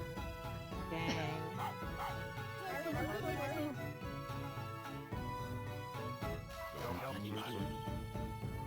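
A puppy in the Okamiden video game barks and whimpers in short yips over continuous game music, its small cries repeating through the passage.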